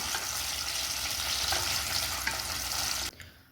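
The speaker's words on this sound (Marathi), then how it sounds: "आता आपल्याला ही डाळ ठेवली होती ना काढून ती पण छान अशी परतून घ्यायची आहे" Chana dal frying in oil in a pan, a steady dense sizzle with stirring that runs loud and even, then drops away abruptly near the end.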